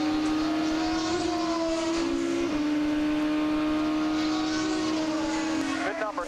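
A 2007 IndyCar race car engine at the Mid-Ohio Honda 200, heard onboard during a lap as a loud, steady high-pitched drone with pitch shifts between shifts and corners.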